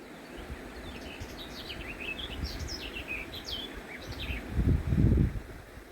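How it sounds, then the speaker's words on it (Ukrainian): A bird sings in the morning near the Ros river in Bohuslav, Ukraine, with a series of bright, quick chirps and whistles over soft outdoor ambience and a rustling bump near the end. "Пташечка нам каже, доброго ранку"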